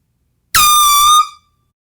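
A Seachoice mini signal horn, a 1.4-ounce gas can topped with a very small trumpet, gives one loud, close blast of under a second, alone, with a bright brassy tone that cuts off sharply.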